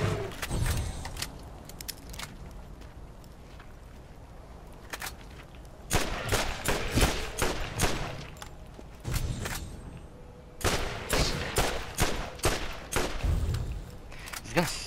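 Gunfire in the Borderlands shooter: scattered sharp shots and quick rapid bursts over a low rumbling game background, growing denser toward the end.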